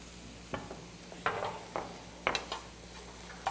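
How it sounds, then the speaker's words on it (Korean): Vegetables stir-fried in a pan, with a faint sizzle under repeated sharp scrapes and clinks of a utensil against the pan, close and fairly quiet, with no talk. "맛있게 볶아진 채소는 잘 볶은 후에 수분이 날아갈 때까지 볶아주시고요"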